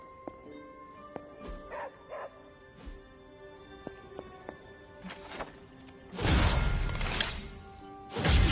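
Dog barks and yips inside the video game Midnight Suns on PS5, a few short sharp barks scattered among other game sounds, with louder bursts of noise near the end.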